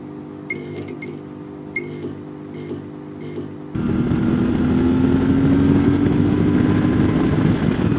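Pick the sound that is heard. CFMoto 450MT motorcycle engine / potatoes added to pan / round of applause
CFMoto 450MT motorcycle engine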